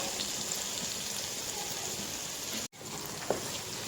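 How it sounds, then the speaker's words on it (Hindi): Eggplants roasting in a pan for aloo baingan curry, giving a steady, even sizzle that continues throughout, briefly cut off for a moment before resuming with a small clink. "और बैंगनों की हमने अच्छी तरीके से भुनाई कर लेनी है।"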